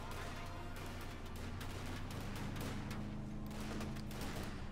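Rifle gunfire in a WWII strategy video game, a rapid crackling fusillade of overlapping shots over a low rumbling battle bed, steady and moderately loud without any talking.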